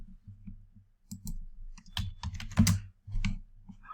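Quiet typing on a computer keyboard, a run of irregular soft key clicks in short bursts with brief pauses, close and alone without talk.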